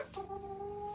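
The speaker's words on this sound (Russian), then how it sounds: "Это он зовет курочку, чтобы она снесла туда яйцо." A rooster calling a hen to lay an egg in a nest makes a sustained, tonal clucking call, close and fairly quiet, held steadily after a short onset.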